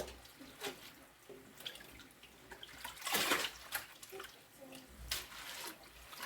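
Collard greens being washed by hand in a basin of water with baking soda, continuous splashing and dripping with louder swishes midway and near the end, close up with no talk.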